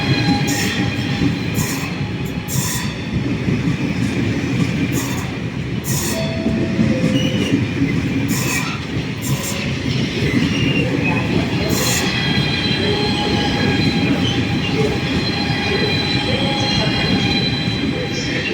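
A train rolls into a platform at Padova station close by, wheels rumbling and squealing along the rails, a loud continuous clatter with brief higher screeches.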